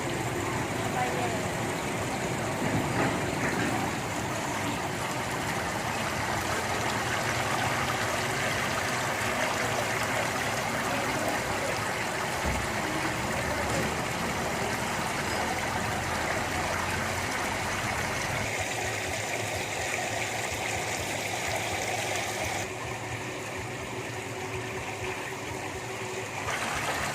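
A Tamer water pump used for growing bean sprouts sends out a steady, continuous rush of flowing water that stays loud and even throughout, with a voice talking over it.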